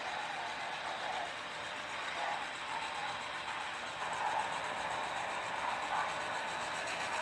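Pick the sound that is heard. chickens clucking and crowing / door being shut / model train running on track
model train running on track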